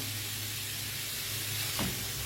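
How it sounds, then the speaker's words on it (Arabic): Carrots and peas sautéing in a pan with spices, a steady close sizzle and hiss with a brief stirring scrape near the end. "هشوح الخضار كله مع بعضه"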